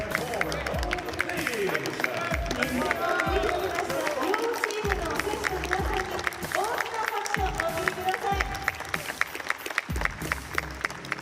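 Sustained applause and crowd noise in an arena after a Paralympic goalball match between the USA and Lithuania at Tokyo 2020, steady clapping with a commentator talking over it.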